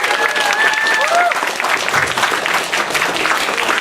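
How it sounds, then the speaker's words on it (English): Crowd applause at a pony fan expo in Vancouver, loud dense clapping filling the room with a few whoops and a brief voice cutting through early on, sustained evenly throughout. "Round of applause one more time."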